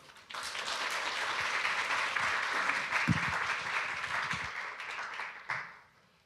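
Sustained applause from a lecture audience at a Korea University forum, a dense even wash of clapping that swells and holds for several seconds, then tapers off at the end.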